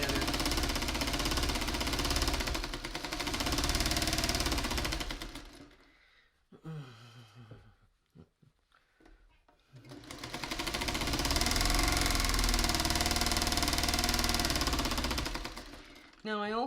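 A sewing machine stitches small quilt block pieces together, a loud, fast, continuous whirring run that stops for a few seconds of handling noise and a brief voice, then resumes just as steadily.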